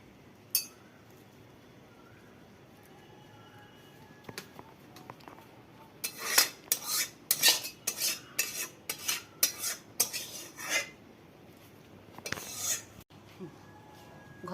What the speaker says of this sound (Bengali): সেই সবজি ভেজে রেখেছিলাম ওই বাটিতেই ঢেলে দিচ্ছি